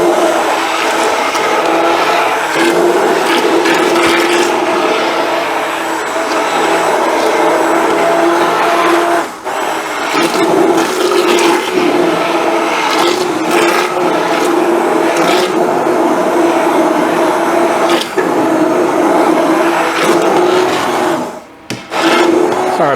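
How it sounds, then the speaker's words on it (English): An immersion blender runs continuously through tomato sauce with chunks of celery, onion and garlic, a loud steady whirring grind with brief dips as the blade shifts in the pot. "So we're going to get the good old immersion blender."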